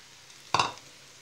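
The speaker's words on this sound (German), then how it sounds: "ich gebe jetzt meine schönen bunten Möhren hinzu" Colourful carrots are tipped into a pot for pumpkin soup, giving a single brief close rattle and sizzling scrape, quick and moderately loud against a quiet background.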